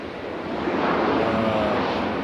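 Airplane at Raleigh Durham International Airport, a steady roaring jet-engine rumble that swells and holds loud across the moment, with no talk.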